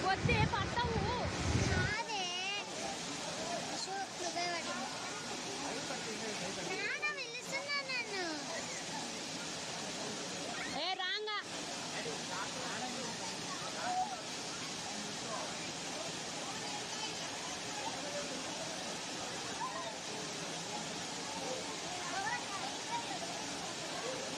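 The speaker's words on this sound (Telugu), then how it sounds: "చూడండి ఒకసారి చూడండి అది ఆ జలపాతం ఎలా ఉందో." A powerful waterfall at Ahobilam keeps up a continuous broad roar throughout, with people talking over the rushing water for most of the time.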